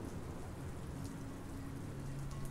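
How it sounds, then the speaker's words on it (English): Heavy rain pours down in a steady, dense hiss with a low thunder rumble beneath it, close and continuous, with no talk over it. "Why did it have to be raining on top of us getting thrown out?"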